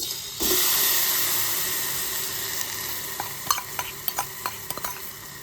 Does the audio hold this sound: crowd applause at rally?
no